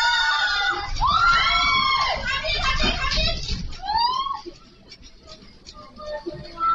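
During an earthquake in Chiang Rai, several people scream in loud, shrill bursts close by, with shouting voices and commotion between the cries.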